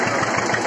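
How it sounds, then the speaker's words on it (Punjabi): A 1997 Eicher 242 tractor fitted with an 11-tine zero drill idles with a steady, even, close-up engine chug, alone with no voices. "Nikka tractor zero"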